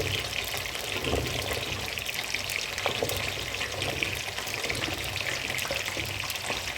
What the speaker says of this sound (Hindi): अब मैं इसमें डाल दूँगी ये तमाम वेजिटेबल जो मैंने आपको दिखाई थी